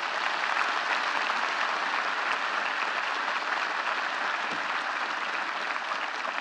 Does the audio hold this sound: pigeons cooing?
no